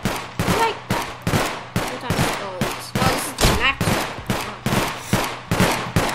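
Towers shooting in the Roblox game Tower Defense Simulator: regular, loud bursts of gunfire repeating about every half second, each with a quick decay, steady throughout with no talking.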